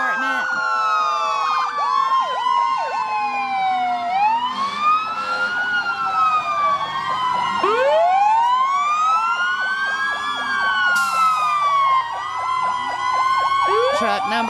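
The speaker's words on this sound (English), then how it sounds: "Our first fire truck here is our Carlisle Fire Department." Fire truck sirens from the Carlisle Fire Department wail through a Christmas parade, several overlapping sweeping tones rising and falling loudly and continuously, with faint crowd chatter underneath.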